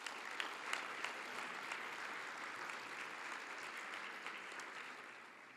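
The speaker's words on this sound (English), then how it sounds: "Let's give them a round of applause." Sustained applause from an audience at an education excellence anniversary celebration, honoring musicians who performed; steady dense clapping with a few sharper claps early on, holding level and tapering slightly at the end, with no talk.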